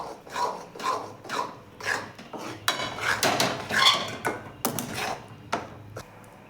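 A spoon mixes hot sugar syrup into a besan barfi mixture in a metal pan, giving rhythmic scraping and rubbing strokes at a steady pace, close and clear, with no talking.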